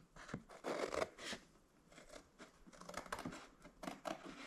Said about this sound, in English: I'm going to go ahead and take a pair of scissors and cut this around here.